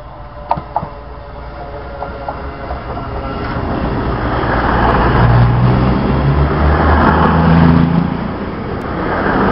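CrossCountry train bound for Manchester Piccadilly passing through Didcot Parkway station, a steady loud rumble of wheels and engine that builds and swells through the middle, with brief squeals and clanks near the start.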